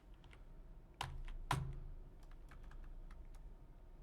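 Computer keyboard typing, sparse key clicks with two sharper louder strikes near the start, quiet and close over a low background hum.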